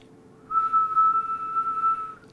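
A single steady, pure whistle from a person, held at one pitch for about a second and a half, clear and close against a low background hum.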